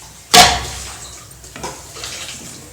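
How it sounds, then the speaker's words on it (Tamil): Water poured into a pan of chickpea kurma, a short splashing burst followed by quieter sloshing and trickling, close and fairly loud with no talk. "குருமாவுக்கு தேவையான தண்ணி ஊற்றிட்டோம்."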